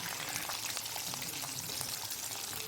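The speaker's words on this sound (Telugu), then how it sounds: "ఉల్లిపాయలు పచ్చిమిరపాయలు వేసి మనం గోల్డెన్ బ్రౌన్ కలర్ వచ్చేలాగా మనం ఫ్రై చేసుకోవాలండి" Onions and green chillies fry in hot oil in a pan, giving off a steady, close sizzle with fine crackling that continues evenly throughout, with no voices.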